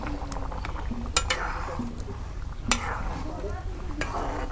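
Cumin paste goes into a hot pan of egg and potato curry. A steady sizzle of frying sounds with a few sharp clinks of a utensil against the pan, close by.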